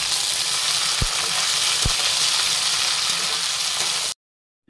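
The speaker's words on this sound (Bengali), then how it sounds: "এবার আমি কেটে রাখা টমেটোটা দিয়ে দেব" Chopped tomato and onions fry in a hot pan with a steady, close sizzle, broken by two brief sharp crackles, before the sound cuts off abruptly near the end.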